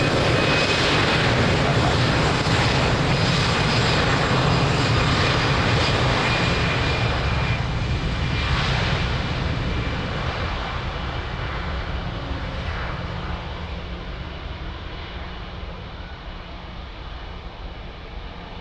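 An airliner takes off from runway 02 at Lisbon Airport, its broad, loud engine roar strongest at the start and slowly fading over about nineteen seconds as the aircraft climbs away, with no talk over it.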